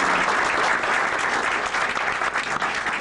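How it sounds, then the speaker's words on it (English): Steady applause from a seated audience at a talk in Cazenovia, a dense wash of clapping hands that holds level for a few seconds without voices over it. "So another round of applause for just being here."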